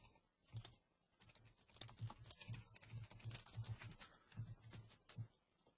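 Fast, light taps on a computer keyboard as a booking form field is filled in, a quiet, steady patter of keystrokes with brief gaps and no voice.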